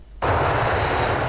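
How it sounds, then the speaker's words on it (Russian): A small propeller airplane in a video game starts up abruptly and holds a steady, loud engine drone with a low rumble, close and alone without voices. "Самолетик полетел."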